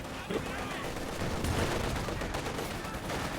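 Gunfire from a Company of Heroes 2 battle between Ostheer Grenadiers and Soviet Conscripts: a steady, dense wash of loud overlapping shots and battle noise with no breaks, a commentator talking over it.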